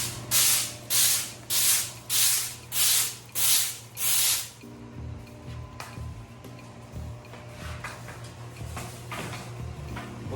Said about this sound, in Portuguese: Vou varrer aqui para vocês verem. Só pelo barulho você consegue identificar.